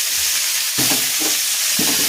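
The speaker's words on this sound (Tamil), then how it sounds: "எல்லாம் போட்டு நல்லா வதக்கிக்கணும்." Mango, tomato and spices being stirred and sautéed in a pan for a sardine curry, a steady close sizzle with a few soft scraping stirs.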